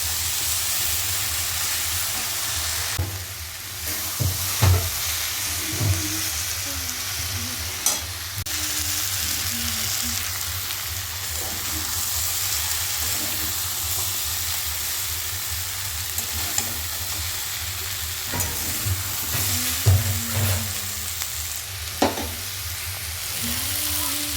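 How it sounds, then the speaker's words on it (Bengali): Vegetables fry with cumin powder and spices in a pan for a Bengali pui muchuri chorchori, a steady close sizzle broken by repeated scraping and stirring knocks of a spatula against the pan. "আর মশলার সাথে সবজিটা একটু কষে নিতে হবে।"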